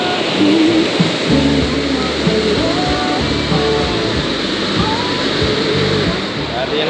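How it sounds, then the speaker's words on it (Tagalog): A strong river current rushes loudly and continuously near Coto Mines in Zambales, a dense wash of turbulent water with low rumbling surges and no voices. "Ang lakas ng agos."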